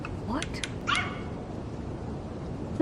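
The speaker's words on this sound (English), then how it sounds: "That was a dog." A dog barks and whimpers in an escape room video game set in a stormy diner, a few short yips and whines early on, then quiet background with a soft thud at the end.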